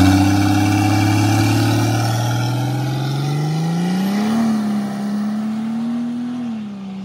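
A Mercedes OM603 diesel engine fitted with a Holset HY35 turbo, external wastegate and intercooler revs up hard, its loud close drone rising steadily in pitch, then holding high and easing slightly.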